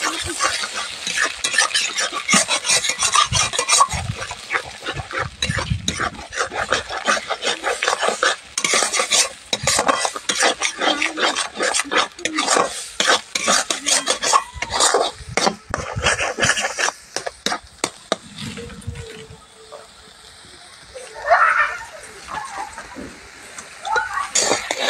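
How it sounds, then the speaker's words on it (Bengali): Egg fried in a pan with salt for egg chowmein sizzles under busy, rapid stirring, with constant clattering scrapes of the utensil against the pan. The stirring eases near the end, and a voice speaks briefly. "এই দেখুন ডিমটাকে খুব সুন্দর করে ভেজে নিচ্ছে।"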